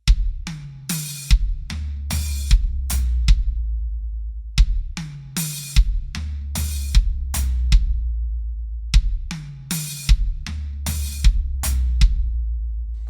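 Drum kit playing a triplet fill across three beats, bass drum thumps alternating with two-handed hi-hat hits, looping in a steady repeated pattern of crisp close strikes with no voices.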